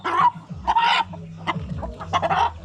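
A large breeder rooster clucks close by in a series of short, throaty bursts, with low murmuring bird sounds between the calls.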